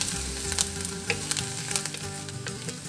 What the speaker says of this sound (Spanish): vamos a preparar friendo cebolla hasta que quede ligeramente dorada